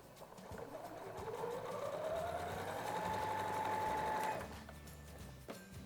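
A sewing machine stitches curtain fabric with interfacing, its motor winding up into a steady fast whir for a few seconds before stopping, close and fairly quiet.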